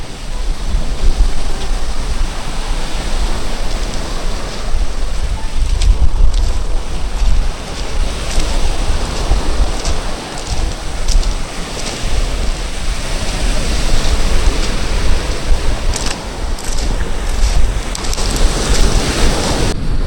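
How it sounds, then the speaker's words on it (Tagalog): Strong sea waves roll and crash at the shore while gusty wind buffets the microphone. The boats are all pulled up on land and none have gone out to sea. The roar is loud and unbroken, with no talking. "Kasi malakas po ang alon."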